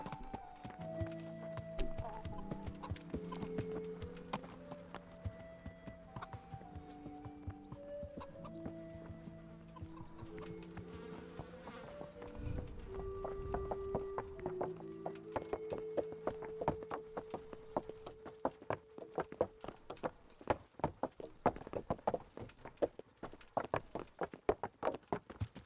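Horse hooves clopping at a gallop in the medieval video game Kingdom Come: Deliverance, a steady rhythmic beat growing louder and denser toward the end, set against background game music.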